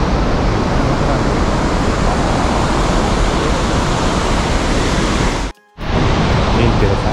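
Loud, continuous rushing water roars without pause near Ciudad Guayana, Venezuela, broken only by a brief cut near the end.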